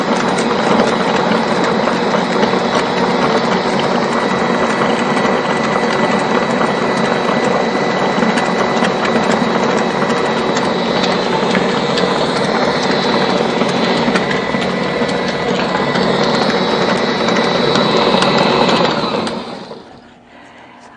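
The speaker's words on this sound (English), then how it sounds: "I will start creaming my butter, add my sugar" A stand mixer creams butter and sugar for Christmas cookies, its motor giving a loud, steady whirring drone with a mechanical rattle for about nineteen seconds before it winds down and stops.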